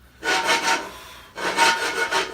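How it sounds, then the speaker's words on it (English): Two long bursts of dry rattling and rasping as coffee beans are shaken and stirred while roasting in a metal pan, steady and close with a brief lull between. "I'm shaking it and stirring them constantly, okay?"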